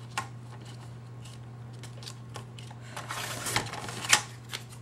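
Vanilla cardstock is cut for card crafting with a few sharp snips and rustling paper clicks, close and brief, over a steady low electrical hum.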